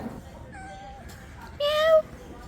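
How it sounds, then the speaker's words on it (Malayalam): A cat meows a few times, with a longer, louder meow near the end, against quiet background noise. "അവിടെ ഇപ്പോൾ ഒരു പൂച്ചയെ കണ്ടു"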